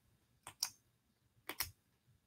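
A Rays ballpoint pen clicks twice in quick pairs, each a sharp, close, crisp snap-and-return of the click mechanism, loud against a quiet background with no talking.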